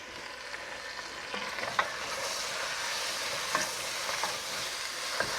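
Lentils and vegetables, including carrots, cook in a pot, a steady close sizzle and bubbling with a few soft scraping knocks as they are stirred around.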